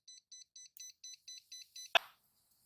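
A Pride Mobility Jazzy Passport folding electric wheelchair gives an error alert, a steady run of eight short evenly spaced high beeps, ending with a sharp click or knock.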